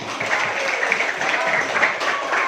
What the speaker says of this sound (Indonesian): Nah, itu tepuk tangannya dong.